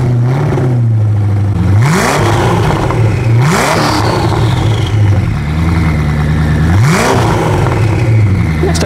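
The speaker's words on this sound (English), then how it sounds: "it would be a crime to shoot a video with the Koenigsegg and not film a couple of engine revs" A loud Koenigsegg Agera RS1 engine revs repeatedly, rising in pitch three times over a steady low idle, close and powerful.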